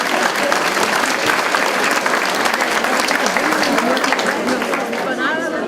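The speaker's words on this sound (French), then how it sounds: "j'aimerais que vous vous donniez tous une main d'applaudissement" Sustained applause from a crowd of about 294 people at a morning seniors' association gathering, loud and dense clapping that fills the whole span without pause.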